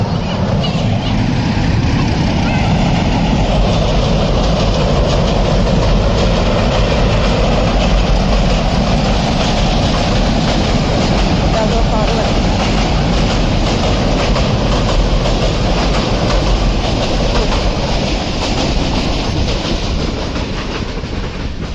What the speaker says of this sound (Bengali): এই যে ট্রেন যাইতেছে, এই ট্রেন আসতেছে